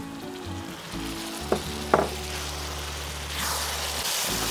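Steady sizzling of vegetables with carrots and tomato purée frying in a cauldron over a low hum, with a couple of soft clinks partway through.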